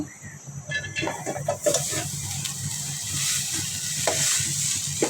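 Egg being stirred into soup in a pan, a close steady sizzle with repeated scraping stirs and light clatter running throughout, no talking.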